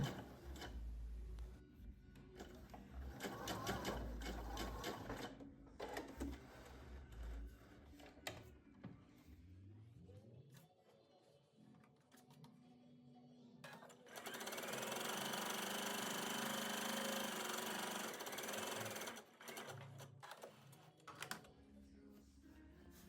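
A domestic sewing machine runs gathering stitches along the edge of a puffed dress sleeve, in a few bursts of steady motor whir with pauses between them, loud and close, a longer run near the end.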